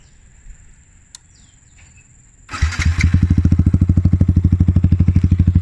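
A Yamaha MT-15 motorcycle with an MSH full system exhaust sits quiet amid faint outdoor insect chirps, then fires up abruptly and settles into a loud, rapid, even idle thump close by.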